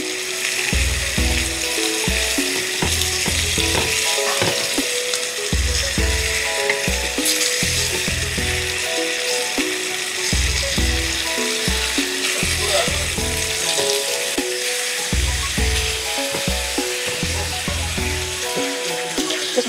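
A rib eye steak sizzles loudly and steadily in an enamel cast iron pan, a constant hiss of frying fat broken by occasional low knocks and clatter.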